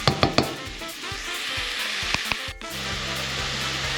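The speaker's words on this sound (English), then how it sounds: "Lots of moisture inside of the mushrooms themselves. We're just going to sit and let it cook down." Mushrooms sizzling in a pan as they cook down and release moisture, giving a soft continuous frying hiss. A few sharp clacks and utensil taps sound near the start and again around the middle.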